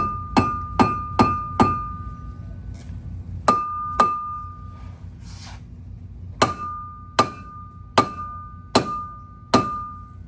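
Sharp metallic hammer strikes on the broken suspension of a GTO ring out in bursts, a quick run of four, then pairs and a steady series of single blows, loud and close.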